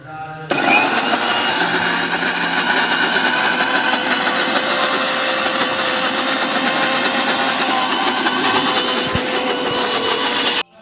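A kitchen mixer grinder jar runs while jali pitha batter is prepared, a loud, continuous motor whir that starts sharply, holds steady for about ten seconds and then cuts off. It sounds close, and no one talks.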